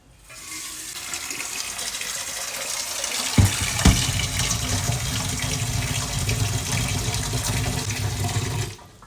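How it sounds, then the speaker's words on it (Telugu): Tap water pours steadily into a basin, a continuous splashing rush that runs for several seconds with a couple of knocks partway through, then stops. "ఈ బేసన్లో వాటర్ పట్టుకోవాలి"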